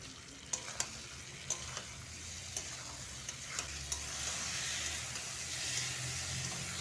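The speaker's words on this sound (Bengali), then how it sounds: "এবার আমি বেটে রাখা মশলাটা দিয়ে দিচ্ছি। মশলাটা দিয়ে আর একটু ভালো করে কষিয়ে নেব।" Ground spice paste frying with softened onions in a pan, a steady hissing sizzle punctuated by several sharp clicks of a spatula stirring, with no talk.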